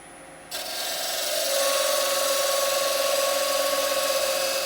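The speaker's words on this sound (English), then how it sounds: "what I'm going to do now is do about 1/2 inch to the right of that, another little plunge cut" A wood lathe spins as a turning tool makes a plunge cut into the wood while shaping a simple bead and cove, giving a steady, close, continuous scraping hiss that starts abruptly and holds at an even loudness.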